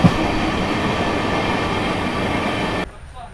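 Amrit Bharat Express train on the Sitamarhi–Delhi run crossing the Yamuna rail bridge, a loud continuous rumble and rattle of wheels on the span, cut off abruptly near the end.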